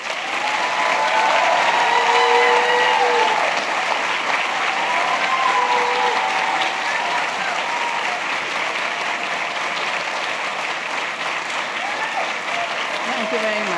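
Audience applause fills a lecture hall at Ohio University as Dr. Vandana Shiva is welcomed, a steady, dense clapping from a large crowd that holds for over ten seconds with no talking.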